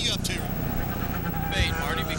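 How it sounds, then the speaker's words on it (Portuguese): An IndyCar race car driven by Rahal at the 2011 Baltimore street race passes with a rising and falling engine whine, heard under continuous commentary from a broadcaster. "Tá ali o Rahal, a passagem do carro do Rahal."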